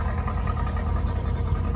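Tractor engine idling at a fall folk festival, with front weights fitted, a close, steady low chugging rumble heard alone.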